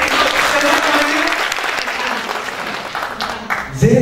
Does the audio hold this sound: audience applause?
yes